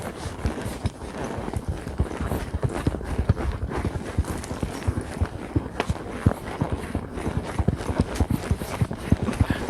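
Hooves of a mare clip-clopping on hard ground during a training session, a loud, close run of uneven steps with a continuous irregular rhythm for about ten seconds and no speech over it.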